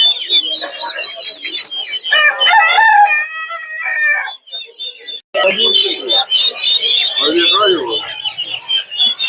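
Chickens and roosters at a poultry market in Mirpur 1 make loud, close, overlapping clucking and repeated crowing, nearly continuous apart from a short pause, with brief human voices among the birds.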